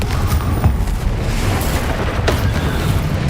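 A spell blast from Bombarda or Confringo booms in Hogwarts Legacy, a dense continuous roar with a couple of sharper bursts layered through a busy, loud combat mix, no speech over it.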